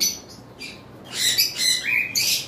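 High-mutation lovebirds at a bird farm give a quick run of shrill, close chirps and squawks in bursts, some overlapping, with quiet pauses between them.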